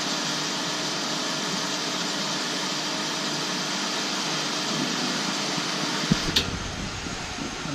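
A duty pump in a water recycling system hums steadily as a broad continuous drone, then its low rumble drops away near the end, leaving a lighter hiss behind.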